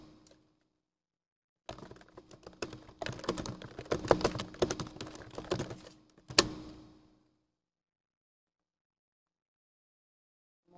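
Rapid typing on a computer keyboard sounds in a dense burst of clicks lasting about five seconds, close and clear, followed by a single louder key strike and then silence.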